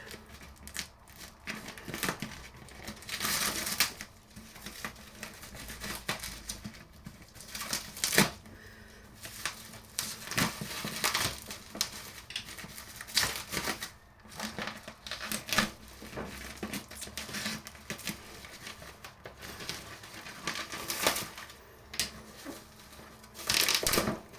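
Packaging of a Braun Series 9 Pro 9475cc shaver being opened, with steady close crinkling, tearing and rustling of cardboard and plastic plus scattered sharp clicks and snaps, no voices.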